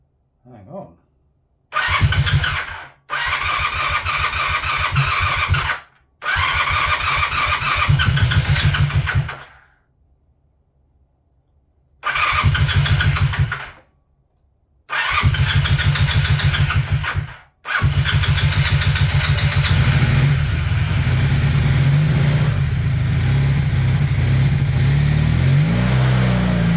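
A Honda CB400T Dream motorcycle, fitted with a rewound stator, cranks in several short starter bursts separated by pauses, then catches and runs, revving loudly and steadily up close; a voice speaks briefly.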